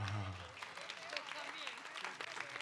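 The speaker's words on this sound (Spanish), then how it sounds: "Un aplauso." Applause from a church congregation, a short burst of scattered clapping heard fairly faintly at a distance, with voices mixed in.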